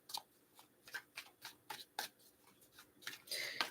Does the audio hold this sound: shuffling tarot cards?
yes